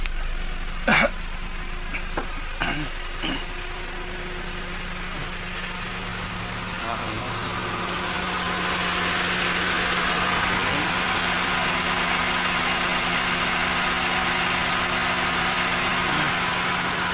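A 2007 Honda CR-V engine idles in its engine bay, a steady low hum that swells slightly in the second half, with a few clicks early on and someone speaking briefly near the start.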